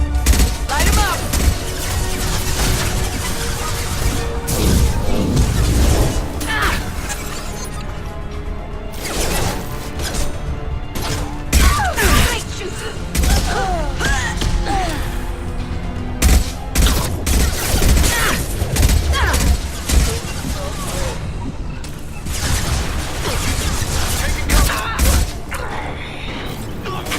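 Sustained assault rifle fire in Mass Effect 2, loud and close, with dense overlapping bursts and crashing impacts running almost continuously through the stretch, broken only by brief pauses.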